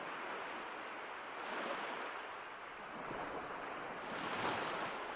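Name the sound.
ocean waves and wind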